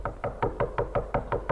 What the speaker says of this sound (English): Are you trying to knock the door down?